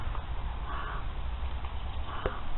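A crow cawing outdoors at Jerpoint Abbey in Ireland, two or three faint, distant calls over a steady low rumble of background noise.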